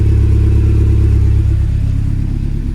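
A high-mileage VW GTI engine idles and pulls forward with a loud, low rumble and faint clatter, a steady close drone that eases slightly toward the end.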